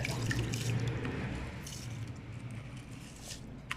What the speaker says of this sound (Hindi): अभी मैं चावल डालने लगी हूँ।